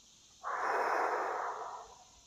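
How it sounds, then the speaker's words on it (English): One forceful breath pushed out through the nose and mouth during QiGong breathing practice, a close, loud, rushing exhalation lasting about a second and a half before tapering off. "Breathe out forcibly."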